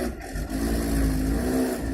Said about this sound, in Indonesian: Mobil dump truck warna hijau siap keluar.